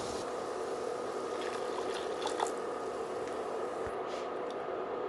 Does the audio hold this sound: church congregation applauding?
no